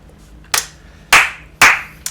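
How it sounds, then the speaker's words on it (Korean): Three sharp claps spaced roughly half a second apart, loud and close, with quiet between them and a faint fourth starting at the end; a Korean streamer clapping during a Lineage 2 weapon enhancement attempt. "박수!"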